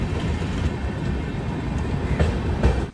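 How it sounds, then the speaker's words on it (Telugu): An Intercity Express train (the Vikrama Simhapuri Amaravathi) at a railway station, rumbling loudly and continuously with heavy low-end wheel and engine noise and a few brief clanks near the end. "మన ట్రైన్ అయితే ఒక 12 నిమిషాలు లేట్తో మనకి సింగరైకొండ రైల్వే స్టేషన్లోకి ఎంటర్ అయిపోయింది"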